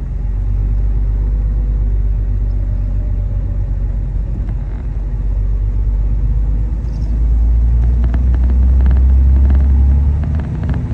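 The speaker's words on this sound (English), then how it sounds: "I'm in second gear, and I can take off like this. I can just start driving." Chrysler car with a Fluid Drive transmission pulls away in second gear without the clutch, its engine a heavy, close, steady low rumble that swells slightly as the car gets moving.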